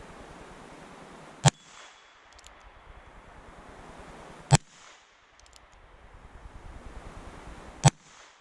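Three loud, sharp shots from a Heritage Rough Rider revolver crack out a few seconds apart over a steady outdoor wind rush.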